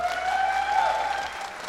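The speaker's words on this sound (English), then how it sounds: "Give a round of applause for our second placers." Audience applause at a gaming expo stage during a convention, a steady wash of clapping from a crowd that holds level for most of the moment and then eases slightly.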